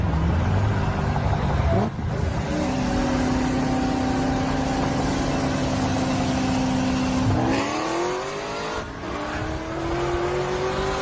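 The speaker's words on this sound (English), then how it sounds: "you hear that supercharger going" A supercharged car engine accelerates on a highway with a loud, continuous whine over the engine drone, and the pitch rises as it revs.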